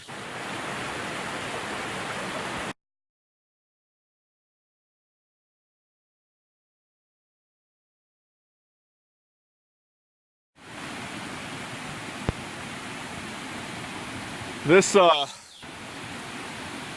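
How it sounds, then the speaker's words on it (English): Small chute-like waterfall in Pisgah National Forest, a steady broadband rush of falling water near at hand, broken by a long silent gap, with a brief spoken word and a handling bump. "is a pretty awesome little waterfall here"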